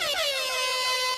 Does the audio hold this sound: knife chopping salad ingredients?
no